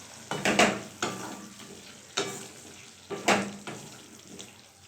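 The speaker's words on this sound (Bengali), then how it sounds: "নেড়ে দেবো।" Potatoes frying in a pan are stirred with a utensil, giving a few close scraping stirs over a steady soft sizzle, with no one talking.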